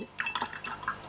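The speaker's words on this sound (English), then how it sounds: "clean my brush off, rinse off the excess water, and then blend those edges." A watercolour brush rinsed in a water pot, a brief quiet patter of small drips and splashes lasting about a second.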